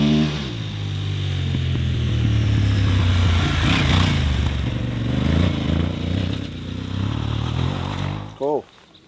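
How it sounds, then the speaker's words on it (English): An Aprilia Tuareg 660 Rally motorcycle ridden offroad in third and fourth gear, its engine droning loud and close with rises and dips in revs, with a voice talking over it near the end. "we're going to switch off the traction, have a few more slides, up the pace a little bit, third and fourth gear stuff"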